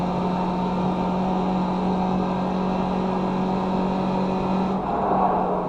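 Race car engine in iRacing at Summit Point Raceway, a sustained high-pitched drone with a steady tone, shifting slightly near the end as the car pulls away, loud and alone without speech.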